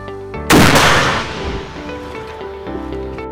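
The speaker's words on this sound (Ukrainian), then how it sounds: "Постріл!" A single loud gunshot bursts out and decays into a ringing, reverberant tail over a low steady background.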